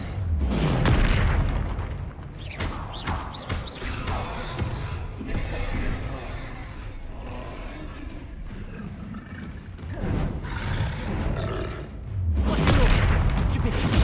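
Confringo fire spells blast during combat in Hogwarts Legacy, booming bursts at the start and the end with a rumbling, crackling battle din in between.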